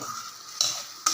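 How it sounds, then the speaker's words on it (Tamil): Tamarind mixture for puliyodharai simmers in a pan, a soft steady bubbling and sizzle with two brief brighter bursts, close and fairly quiet with no talk. "பாருங்கள், கொதிக்க ஆரம்பிக்குது."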